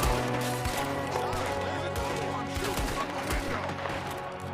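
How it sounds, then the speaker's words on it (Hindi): Red Dead Redemption 2 gameplay during a shootout at a gangster-held house, a six-shot pistol in play amid dense, overlapping bursts of gunfire that stay loud and continuous throughout, with a voice faintly mixed in. "मेरे पास 6 बुलेट की पिस्तौल है,"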